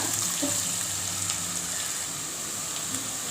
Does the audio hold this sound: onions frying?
yes